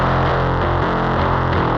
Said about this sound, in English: This is just Cubase's stock distortion.